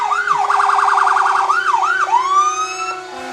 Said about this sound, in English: Next is one of our favorites, the engine number 7. It's a 2012 Sutphen.